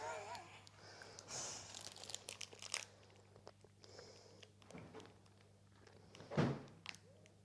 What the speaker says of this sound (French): pardon pour le bruit, c'est mes lapines